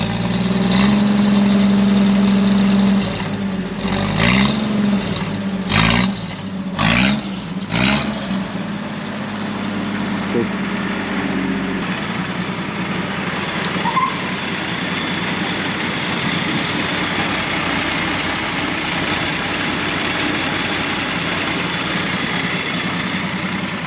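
A 1949 International KB-5 truck engine idles steadily with a low rumbling drone, after a few sharp clunks and a brief uneven stretch near the start, then settles into a constant even idle.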